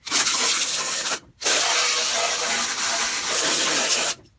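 Cleaner is sprayed onto a greasy deck of a 1995 Rally push mower in long, loud, close hissing bursts, with one brief pause between sprays and no talking.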